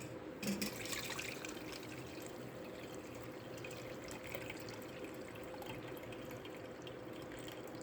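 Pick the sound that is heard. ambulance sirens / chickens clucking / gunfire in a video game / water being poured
water being poured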